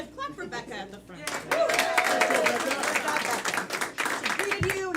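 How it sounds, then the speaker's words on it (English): A group claps for a greeter named Becca at a lively event, a burst of clapping that starts after a moment and carries on under overlapping voices and cheering. "Clap for Becca at the front."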